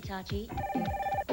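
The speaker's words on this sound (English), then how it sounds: "wait, that's my phone." A telephone rings in a Hitachi television commercial: short, bright, buzzing bursts of ringing, with a voice speaking briefly over them.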